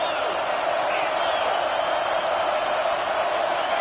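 Stadium crowd at a football game roaring steadily to rattle the offense, a dense sustained wash of cheering and whoops heard throughout.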